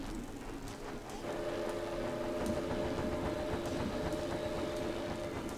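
Trains in the theme-park game Planet Coaster rumble steadily along with clattering wheels and a sustained horn-like toot held over the noise, close and loud, with no talking.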